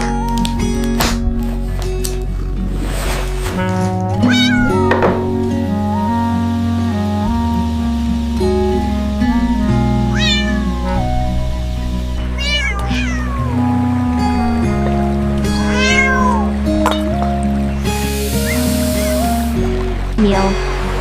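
A cat meows repeatedly over a steady musical backing in a cartoon about a mother cat and kittens driving fire, ambulance and police cars, the calls rising and falling close up and loud.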